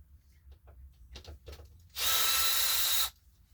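A power drill drives a screw through a wall for a solar power setup in one loud, steady burst of about a second, after a few quiet knocks and handling sounds.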